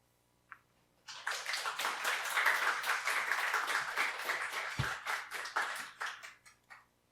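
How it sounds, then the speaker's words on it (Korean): A church congregation at a Sunday service applauds to welcome the preacher, a dense, steady roomful of clapping that swells after a single early tap and then tapers off gradually near the end. "여러분 격려와 응원의 박수로 맞아주시면 감사하겠습니다"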